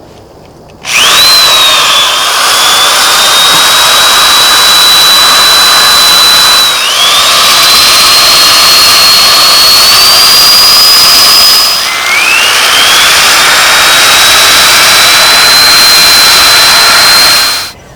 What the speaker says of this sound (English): The next thing I'm doing is taking a drill with a wire wheel to get the last of the clear